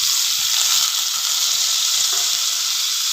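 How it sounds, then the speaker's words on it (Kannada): Onion and lentils fry in hot oil, giving a loud, dense, unbroken sizzle close up, with no voices. "ಸ್ವಲ್ಪ ಅದರಲ್ಲಿ ಎಣ್ಣೆಲೆ ಬಾಡಿಸ್ಕೋಬೇಕು ಇದನ್ನು"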